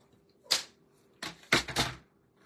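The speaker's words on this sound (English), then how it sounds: "So I'm going to cut at least 2 inches off of this" Card stock for a greeting card is trimmed in a few quick, close crisp strokes, one single cut followed by a short cluster of three, with quiet in between.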